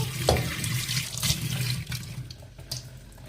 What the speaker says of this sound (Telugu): వాటర్ పట్టుకున్నాను.